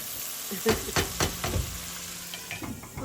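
Masala for a beef tongue bhuna sizzles over a medium flame, with a few clattering scrapes as a spoon stirs it, then a quieter hiss of frying.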